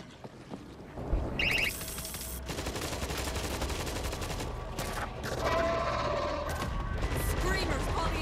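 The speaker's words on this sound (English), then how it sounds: "We got an auto turret!" An auto turret in World War Z hammers out sustained automatic fire, a dense unbroken barrage of shots that grows louder midway, with game sounds mixed through.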